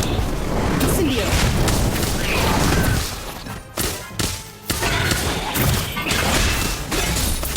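Incendio fire spell cast in the game Harry Potter Magic Awakened, a dense burst of loud thumps, whooshing whip-like cracks and crashing impacts, broken by a brief lull before the clash resumes.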